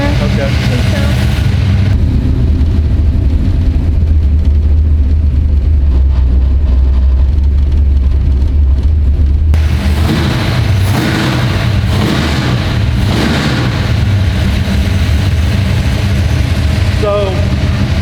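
A Dodge Dart engine with an ATM carburetor idles steadily and loudly throughout, a deep continuous rumble that shifts slightly in tone partway through, with people talking over it.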